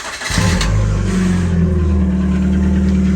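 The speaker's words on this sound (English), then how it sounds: "let's just start her up with no exhaust back box" A Rover Streetwise, laid up for several years and run without its exhaust back box, cranks and fires, then settles into a loud, throaty, rumbling idle close by.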